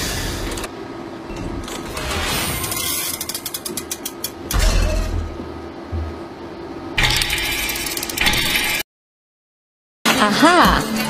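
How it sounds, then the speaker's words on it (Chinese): Mechanical parts of a karakuri puppet, a traditional Japanese automaton, are set in motion at the Tokyo Paralympics opening ceremony: ratcheting clicks and whirring gears, loud and close, in bursts separated by a brief silence. "穿着蓝色制服的工作人员开始启动各个零件"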